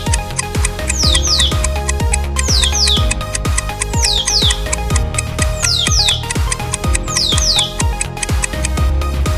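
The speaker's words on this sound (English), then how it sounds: "Yes, it's a parrot." Repeated parrot calls in a quiz of bird sounds for kids, sharp rising-falling squawks and whistles in pairs, loud and close over a steady rhythmic backing track, with no talking.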